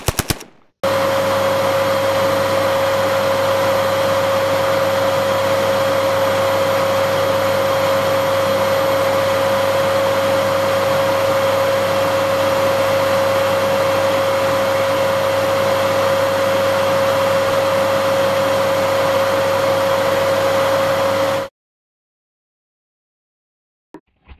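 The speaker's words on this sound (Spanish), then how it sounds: "voy a prender el ventilador" An electric fan switches on abruptly and runs with a loud, steady whirring hum and a sustained tone for about twenty seconds, then cuts off into silence, with no talking.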